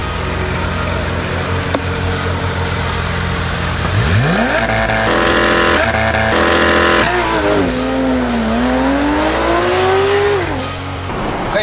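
A BMW M550i sport sedan launches with launch control, its engine roaring loud and close as revs climb sharply, hold, then rise and fall through gear changes, with no talk.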